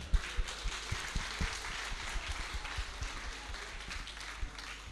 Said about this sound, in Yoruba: ẹ ń bá tara obìnrin gidi jáde kó pàtẹ́wọ́ fún ìyá rẹ̀